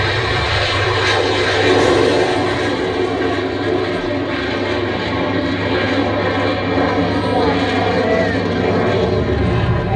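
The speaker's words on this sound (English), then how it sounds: "Engines are started and taxiing out for runway 25" Simulated aircraft engines in a museum flight simulator at the Royal Air Force Museum London start up and taxi toward the runway, a continuous loud engine roar with a steady droning hum and no clear talk.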